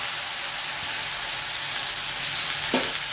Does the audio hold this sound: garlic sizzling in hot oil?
yes